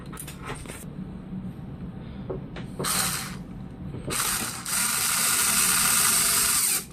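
A screwdriver drives a screw to secure a video card in a computer case, making close mechanical ratcheting and hissing bursts that grow louder and longer toward the end.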